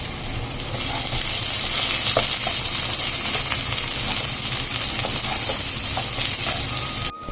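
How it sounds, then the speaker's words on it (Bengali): Chopped chillies sizzle in a pan of fried onions with a loud, continuous hiss of frying, steady throughout, with faint stirring clicks and a sudden drop at the very end. "এখন আমি কুচিয়ে রাখা লঙ্কাগুলো দিয়ে দেব"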